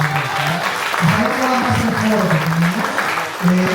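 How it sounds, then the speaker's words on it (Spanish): Audience applause for a speaker at a lawyers' event in Mexico, sustained clapping from a room full of people with a voice talking over it. "Marisela Cifuentes, aquí también les pido un aplauso para ella"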